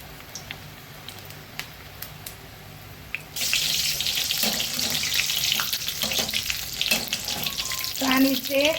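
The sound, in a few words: onion tikdi bhajiya frying in oil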